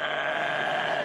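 A voice imitates two cogs failing to mesh, giving a short, strained, bleating buzz held at an even loudness for about a second.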